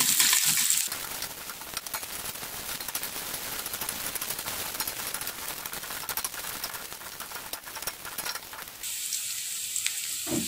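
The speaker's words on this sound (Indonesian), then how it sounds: "Selanjutnya kita tumis bawang merah dan bawang putih." Shallots and garlic sauté in hot vegetable oil with a loud, steady sizzle and crackle that runs nearly the whole time, briefly quieter at the very start and end.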